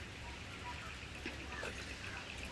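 Heavy rain falls during a trip to Coimbatore, a steady hissing wash of drops on surfaces with a voice speaking over it.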